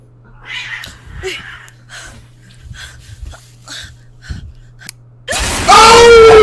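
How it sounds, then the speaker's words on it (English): Cat meowing and yowling during a horror story reaction, several soft, breathy cries, then a loud, drawn-out caterwaul bursting in at the end. "Yeah, that damn cat woke your ass up."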